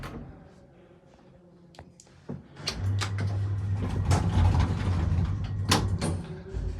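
Magar traction elevator in a Madrid apartment building: mechanical clunks and clicks from the mechanism and doors, then a steady low hum of the running machinery with sharp knocks scattered over it.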